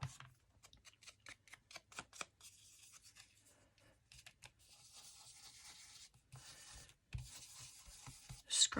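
A wallpaper journal cover is scuffed by hand, giving soft, close scratching and rubbing strokes, some short and rhythmic, others longer rasping passes, all quiet with pauses between.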